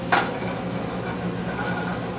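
Chicken cooking in butter in a frying pan makes a steady, close sizzle, with a quick scrape or stir near the start.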